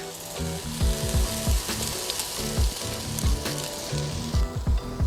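Carrots stir-fry in a hot pan for fried instant noodles, a constant loud sizzle broken by a quick, regular rhythm of utensil scrapes and stirs, close up with no voices.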